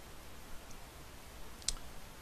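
A single mouse click while working in Photoshop CS4, faint and close, a lone sharp tick against a quiet room hum.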